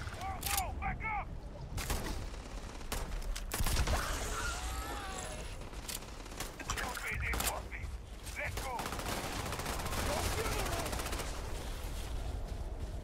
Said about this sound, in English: Oh, they're just firing off into the void.